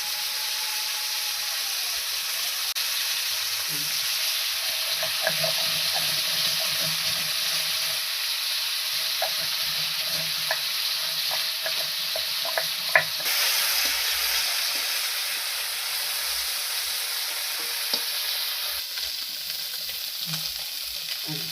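Amudi fish sizzle and fry in hot oil in a pan, a continuous bright hiss with scattered crackles and pops and occasional stirring clatter, close and steady throughout.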